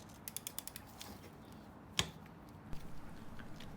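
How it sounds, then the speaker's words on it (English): A socket wrench on the sump plug of a Yamaha MT07 motorcycle gives a short run of quick ratchet clicks, then a single sharp crack as it turns, followed by soft metallic handling. "Start by undoing the sump plug with the socket"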